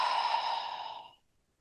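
A single long, deep exhale during a yoga session, a close, breathy whoosh that fades out over about a second into silence.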